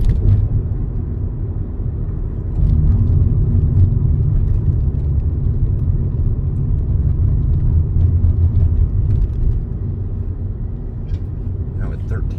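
Traffic on the I-395 overpass above 14th Street in downtown Miami near the Adrienne Arsht Center, a continuous low engine and tire rumble, fairly loud and steady, swelling slightly midway before easing off.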